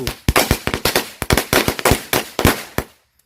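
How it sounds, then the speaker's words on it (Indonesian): Blue Corsairs match firecrackers going off in rapid succession, a loud close string of sharp cracking bangs with irregular spacing that stops abruptly near the end. "ini kita nyalain mercon korek Corsairs yang warna biru"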